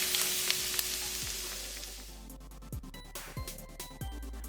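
Garlic fries over medium heat in a spoonful of cooking oil and a spoonful of sesame oil, hissing steadily up close, while a few sharp taps of a spatula against the pan punctuate the frying.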